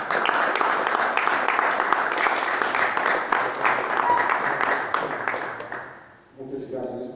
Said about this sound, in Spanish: si es posible, un aplauso para el profesor Carlo Iandolo.